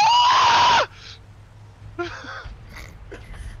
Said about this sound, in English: that was a single most terrifying scream